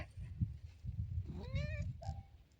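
A cat gives a short rising meow followed by a brief second chirp, fairly faint and close, over low rumbling background noise with no talking.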